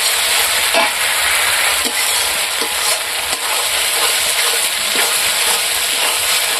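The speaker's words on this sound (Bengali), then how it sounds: "এখন আমি মশলা ধোয়া অল্প একটু জল দিয়ে দেব।" Water poured onto spice paste frying in oil for a village-style fish curry sets off a loud, steady sizzle with faint stirring scrapes. It is heard close up, with no talking.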